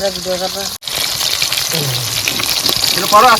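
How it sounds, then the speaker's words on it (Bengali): Fish frying in a pan gives a steady hiss and crackle of hot oil throughout, close and fairly loud, with a voice talking briefly at the start and again near the end. "মাছ ভাজা হয়েছে"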